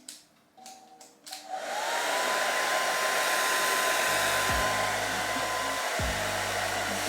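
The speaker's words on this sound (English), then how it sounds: "you turn on your blow dryer and it dries your whole head in a matter of minutes" Hair dryer switched on after a few handling clicks, then a loud, steady rushing blast of air drying natural hair, continuous and close with slight shifts in tone as it moves.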